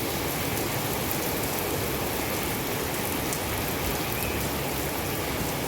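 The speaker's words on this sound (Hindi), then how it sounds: "बारिश बड़ी तेज़ हो रही है" Heavy rain falls at night in Riyadh, a dense, constant hiss of drops pounding surfaces at steady loudness, close and unbroken, with no voices.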